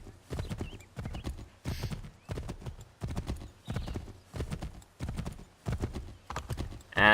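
Rhythmic horse hooves from the video game Assassin's Creed III clop at a steady trot, evenly spaced thuds repeating without pause, fairly close and clear, with no talking.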